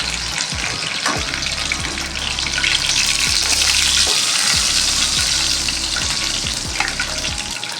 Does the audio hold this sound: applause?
no